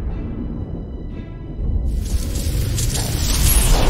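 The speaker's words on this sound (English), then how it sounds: "Something above me blew up." An explosion in a VR video game: a deep rumbling boom rises into a loud, sustained roaring blast with hissing noise, swelling steadily toward the end.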